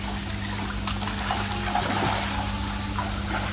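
Water drains out of a biofloc fish tank in a continuous, even trickle and dribble. The flow stays steady throughout, with no voices over it.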